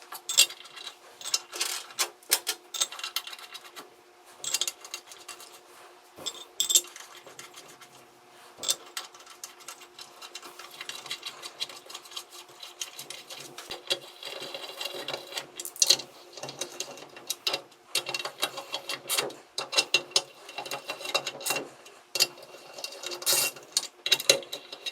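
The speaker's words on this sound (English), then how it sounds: "take our 6 3/8 bolts and make sure those are clean, and then run those in" Small 3/8 bolts being run into a Loganbuilt 47/48RE transmission case during overdrive piston support assembly, giving a steady stream of close, light ticking and clicking mechanical taps over 25 seconds, no talking.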